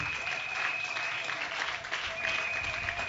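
Church congregation applauding during a Sunday worship service, a steady wash of clapping hands filling the room for the full stretch, with a sustained tone and a faint voice running beneath.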